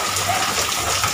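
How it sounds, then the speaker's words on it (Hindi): Heavy rain falls in Delhi, a loud, close, continuous wash of water noise with no break across the short stretch. "बारिश खतरनाक हो रहा है"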